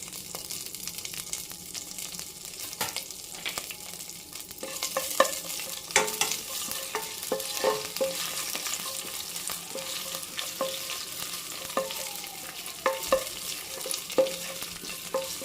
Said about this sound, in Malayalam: ഇപ്പോൾ ഇനി നമുക്ക് എടുത്തു വച്ചിരിക്കുന്ന കറിവേപ്പില ഇട്ട് കൊടുക്കാം